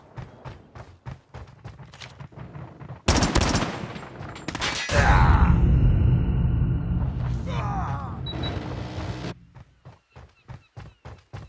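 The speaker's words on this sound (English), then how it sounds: "Sentry gun deployed." A sentry gun in the Call of Duty Mobile video game fires sustained automatic bursts, loud and close, between sharp single shots and rapid rhythmic clicks, with game voice lines heard.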